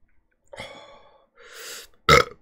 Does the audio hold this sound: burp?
yes